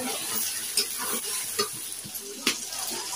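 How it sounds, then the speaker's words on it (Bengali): Meat being sautéed (kosha) in a pan in a home kitchen, with a steady loud sizzle and several rhythmic scraping strokes of a spatula, up close. "দেখো কষানো হচ্ছে"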